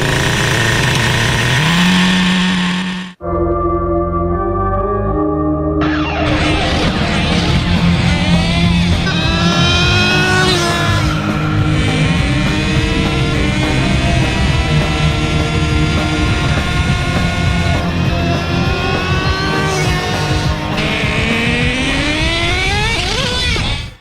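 A Traxxas Jato nitro RC car engine fires up after a brief pause, then runs loud and close with a high, buzzing whine that rises and falls through repeated revs.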